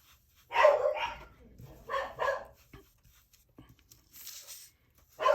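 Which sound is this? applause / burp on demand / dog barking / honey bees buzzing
dog barking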